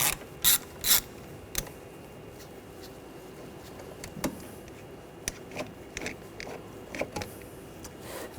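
Ratchet with a T25 socket backing out screws on a 2013-2019 Ford Escape 2.0L four-cylinder during a variable valve timing solenoid job, giving a few sharp clicks early and then scattered ratcheting ticks spaced apart over quiet shop background.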